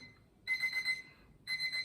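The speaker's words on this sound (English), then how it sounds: "whatever you expect from an alarm clock, it's exactly what it sounds like" A Pusheen alarm clock rings in two loud electronic beeping bursts, each about half a second long, separated by a short pause, heard close up with no talk.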